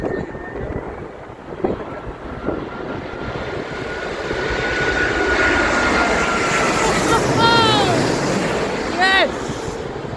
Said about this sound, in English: there's got another plane coming in right now